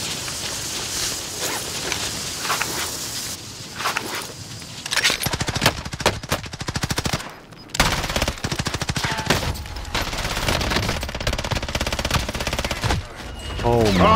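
Rapid automatic gunfire rattles through a Warzone video game match in dense, loud bursts, broken by brief pauses and a short gap midway, with bursts resuming until the end and only faint background sounds between.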